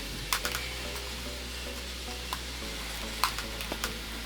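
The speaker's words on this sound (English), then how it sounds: "you can hear all that scratching." A clay bar drags over dirty, contaminated car paint, giving faint gritty scratching with a few sharp clicks and light scuffs against a low, steady background hum.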